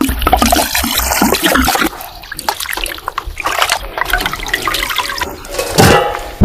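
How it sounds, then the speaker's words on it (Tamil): Water splashes and sloshes continuously as it is poured over fish being washed, with pouring and trickling close by and a louder gush near the end. "இப்போ தண்ணி ஊற்று"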